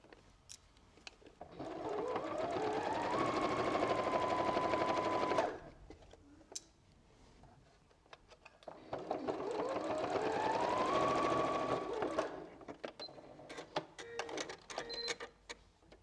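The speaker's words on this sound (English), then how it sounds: "in your sewing machine and top stitch about 2 mil away from where those 2 folded seams meet" A domestic sewing machine top-stitches a folded fabric strap for a fat-quarter tote in two steady, loud runs of whirring stitching, each about four seconds long and separated by a short pause. No one speaks.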